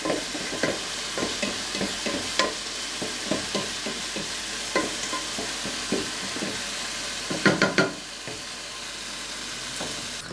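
Vegetables and garlic fry for lamian noodles, a steady sizzle broken by a series of sharp scraping stirs and clanks of the utensil against the pan, close up and without talk.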